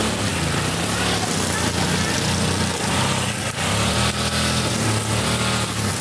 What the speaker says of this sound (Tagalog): Okay, niyan na niya ang grass cutter sa Jumide